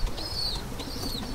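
A pigeon kept indoors beats its wings in a quick flurry, soft close fluttering mixed with a couple of thin high chirps, brief and fairly quiet.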